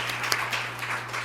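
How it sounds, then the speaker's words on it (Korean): Scattered applause from a small audience at a Korean economics forum seminar's panel discussion, brief and fairly soft, with individual claps audible over a constant electrical hum. "다 같이 이 패널 토론자분들께 박수를 한번 좀 부탁드리겠습니다."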